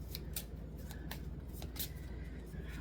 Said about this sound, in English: when we're done shuffling